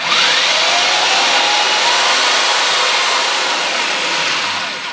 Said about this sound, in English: we'll go down through there with this drill, and we'll do this freehand